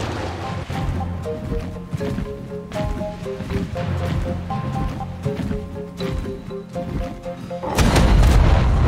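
Explosions in the Ark video game, a run of deep booms and crashes over a steady tonal game soundtrack, ending in a louder, broader blast at the close.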